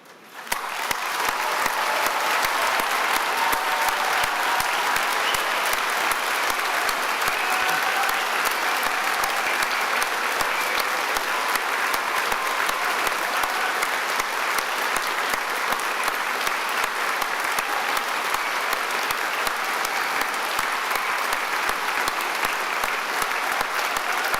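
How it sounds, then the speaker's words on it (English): A graduation ceremony audience at a Birmingham degree ceremony applauds the standing graduates, with dense, sustained clapping that stays loud and steady for the whole stretch. "let's all give them a huge round of applause"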